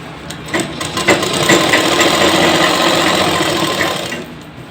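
Sewing machine running steadily while stitching pieces of ladies' pant fabric together, a continuous close whirring drone that builds up and holds for a few seconds before easing off, with no talking.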